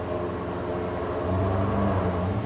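A cold Maserati Quattroporte GT-S (M139) engine is given a gentle rev, a close, low rumbling idle that swells into a deeper throb midway through.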